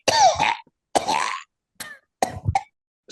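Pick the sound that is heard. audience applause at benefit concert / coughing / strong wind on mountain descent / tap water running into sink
coughing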